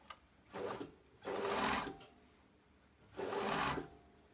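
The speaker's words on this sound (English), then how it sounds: "I can really easily sew the darts" A sewing machine stitches darts in fabric in three short, close bursts of whirring motor and needle, separated by quiet pauses.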